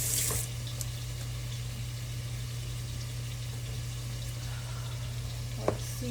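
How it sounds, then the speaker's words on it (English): Water from a kitchen tap runs over frozen beans with a steady, close hiss and spatter, beginning with a brighter splash and continuing evenly, with no one speaking. "I'm just gonna put some water on them"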